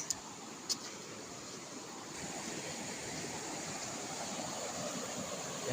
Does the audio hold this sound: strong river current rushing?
yes